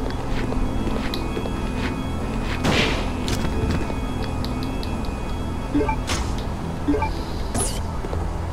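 Gunfire in Resident Evil Code: Veronica X, a few sharp booming shots spaced several seconds apart over a steady low rumble of game ambience, with scattered thuds between them.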